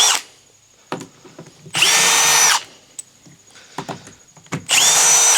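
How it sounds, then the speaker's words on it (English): A power drill whirs in two loud bursts of just under a second each, removing screws from the bottom of an IKEA Alex drawer unit, separated by quieter clicks and handling noises. "Here's where your drill is going to come in."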